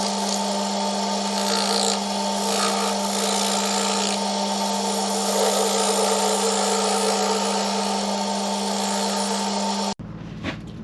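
A woodturning tool cuts a cove into a spinning wood piece on a lathe, a loud, steady whirring drone with a gritty cutting hiss that cuts off abruptly near the end.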